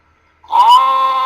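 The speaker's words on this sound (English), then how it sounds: "that's not a lion roar, it's a blooming sheep" A single loud, close sheep bleat used as a sound effect in place of a lion roar. It starts after a short silence and holds a wavering, nasal tone to the end.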